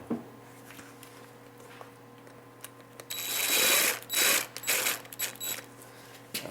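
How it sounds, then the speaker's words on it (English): Mechanical clicking and ratcheting from a bolt being tightened on a Kawasaki KLT 200C three-wheeler, starting with faint ticks and then growing into a few louder bursts of ratchet turns, close up with no talk. "now we'll get that tightened up"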